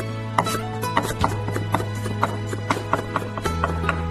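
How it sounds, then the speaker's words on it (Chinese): A knife chops three garlic cloves into mince on a cutting board, quick rhythmic taps repeating at an even pace, close and distinct, with a steady hum underneath and no talking. "再准备3瓣大蒜，先切薄片，再改刀切成蒜末"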